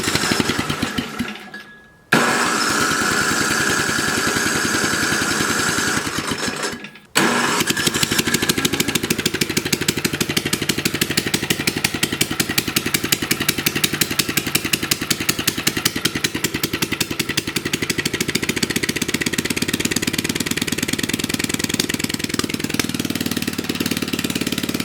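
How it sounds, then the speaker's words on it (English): A small gasoline snow blower engine fitted with a new priming bulb cranks twice in short bursts, then catches and runs steadily with a loud, rapid, even putter that continues close by to the end. "I'm going to go ahead and turn it over, see if it'll start."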